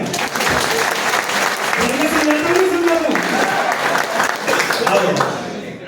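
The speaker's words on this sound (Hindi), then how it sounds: "तालियां एक बार" An audience at a talk session bursts into sustained applause, dense and steady for several seconds before tapering off, with voices mixed faintly into the clapping.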